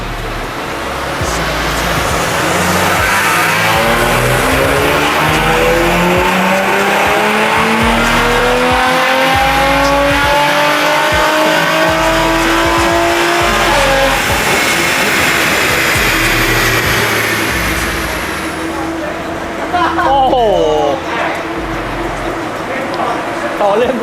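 An Audi RS5 held at full throttle on a dynamometer run, its engine note climbing in pitch through a sustained loud pull before dropping off, with the revs settling near the end and voices speaking over parts of it.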